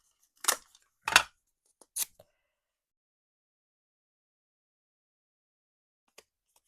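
A die-cutting machine runs a stamped panel of wisp white cardstock through with a few short crunching and snapping bursts, then quiet with one faint click near the end.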